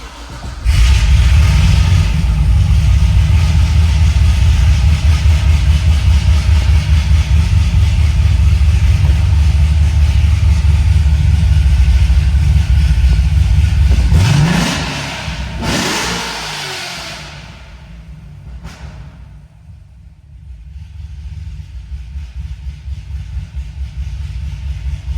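A Corvette C6 Z06 with a Stage 3 package, making over 600 wheel horsepower on pump gas, holds a long loud sustained run at high revs, then sweeps down sharply and fades low before its engine rises again.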